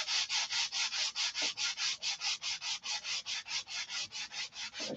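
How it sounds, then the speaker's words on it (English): Balsa wood for a Sig Magnum fuselage being sanded by hand in fast, even back-and-forth strokes, about twenty rhythmic scratchy swishes, close and alone. "let's sand it out and see if I can get some more out of it"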